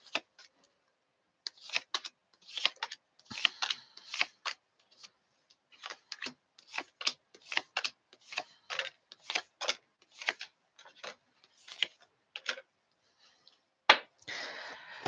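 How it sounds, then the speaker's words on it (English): A tarot deck is shuffled by hand in a quiet room, a long run of crisp, irregular card flicks and riffles, soft and close, with a sharper snap near the end. "I'm just putting the final shuffle on them before I put them down on the table"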